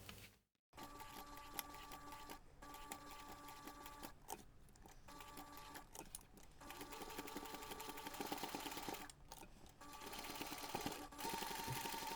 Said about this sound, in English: sew the sides, and then finish at the other notch, making sure you stitch each corner diagonally